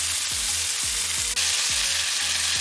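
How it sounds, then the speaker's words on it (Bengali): Chicken shashlik sizzles and fries in butter and olive oil, a steady close hiss with repeated soft stirring or turning scrapes and no talk. "3 মিনিট করে আমি একবার ভেজে নেব"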